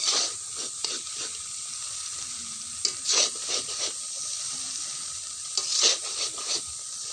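Chow mein being stirred slowly in a large pan of chicken and egg noodles, with a steady sizzle and repeated scraping strokes of the spatula, close and fairly loud with no voices.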